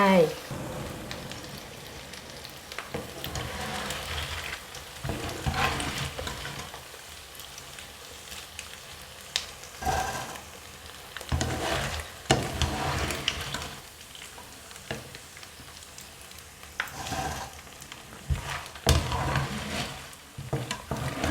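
Sesame-coated chili fritters fry in hot oil with a steady, rain-like bubbling hiss that swells and dips for the whole stretch, close and fairly loud, with occasional stirring scrapes.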